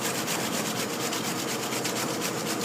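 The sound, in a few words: cucumber being grated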